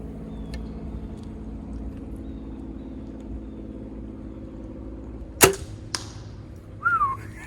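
An arrow is loosed from a bow at a 38-yard target in the woods, threaded between a big tree and a sapling: a single sharp snap and whoosh, then a quick impact a moment later, out of a quiet outdoor background.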